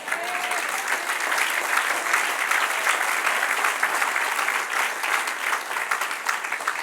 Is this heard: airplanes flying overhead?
no